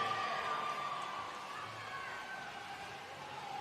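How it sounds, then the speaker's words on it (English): A crowd cheers and whoops from the stands of an indoor pool after a 1500 swimming race at a state short course championship, a steady, fairly distant roar that holds for the whole stretch without easing. "Big cheers from the crowd."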